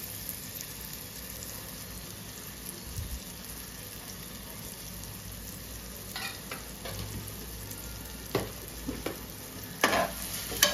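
Homemade masala stirred into fish and chicken frying in a pan, a steady soft sizzle with scraping stirs that grow sharper and more frequent toward the end, no talking.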